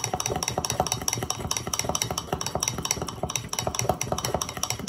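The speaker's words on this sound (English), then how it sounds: "We're gonna use our fork and we're gonna mix it all up." A fork mixes birthday mug cake batter inside a mug, making fast, steady metallic clinks and scrapes against the ceramic in an even rhythm, close and clear with no voices.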